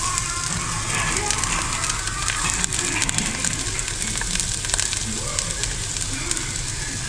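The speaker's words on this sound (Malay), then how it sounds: "Saya tumis dulu bahan-bahan dia." Chili and other ingredients are sautéed in a hot pan with a continuous oily sizzle and scattered sharp crackles and pops, steady and close throughout.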